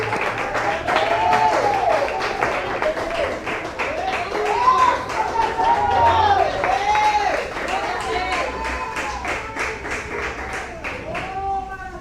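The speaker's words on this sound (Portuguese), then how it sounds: "Pode se assentar e glorificar o Senhor com palmas." A church congregation claps along in praise during a service, a steady dense patter of hands running the whole time under a sung or chanted voice.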